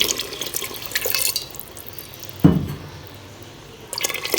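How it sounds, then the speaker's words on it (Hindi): Water poured into a cooking pot (handi) of ready masala while making chicken kofta curry, a short splashing burst midway between quieter kitchen noise. "पानी डाल दिया"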